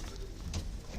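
A prize-winning racing pigeon, a white bird with dark eyes, gives a brief soft coo nearby, faint and short against a quiet background.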